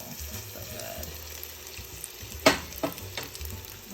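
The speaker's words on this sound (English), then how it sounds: "I just wanted to show you how this is gonna sizzle" Burgers sizzle in a pan with a steady hiss, broken by a couple of sharp clatters and low rumbling underneath.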